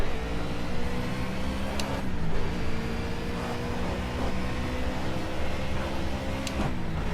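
A Ford Cobra Trans Am race car engine in Project CARS at Cadwell Park GP drones steadily, with the pitch dipping and recovering as the car coasts and shifts down a gear.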